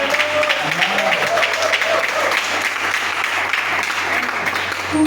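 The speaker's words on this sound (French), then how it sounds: "On peut les acclamer." A church congregation claps for a children's choir, dense sustained applause filling the room with a voice talking over it.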